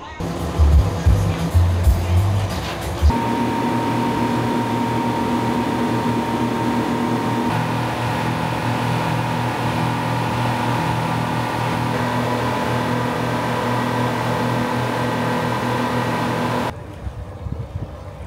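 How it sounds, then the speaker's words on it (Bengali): Engine of a large, fast speed boat in Thailand droning loudly and steadily at close range, with a rough startup burst before the roar settles and then cuts away near the end. "স্পিড বোটটা বেশ বড়ই, শব্দের চোটে কথা শোনা যাচ্ছে না"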